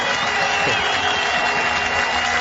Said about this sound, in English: there's huge applause around the ground as well from all the Pakistan supporters here